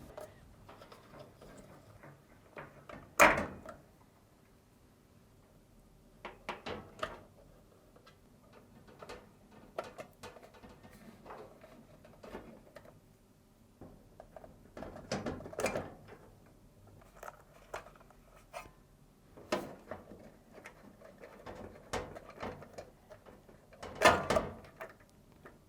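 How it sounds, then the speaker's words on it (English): Plastic wiring harness connectors are pulled free from a Samsung dryer main control board, giving faint scattered clicks and snaps with a few sharper pops, close up and quiet, with no voices. "remove the wiring harness from the retainers and disconnect the connectors by either pulling or depressing the locking tabs and wiggling until they release"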